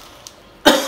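A single sharp, loud cough from chili fumes while making aguachile bursts out near the end after a quiet stretch with a faint earlier click.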